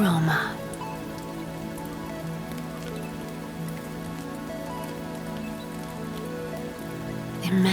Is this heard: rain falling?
yes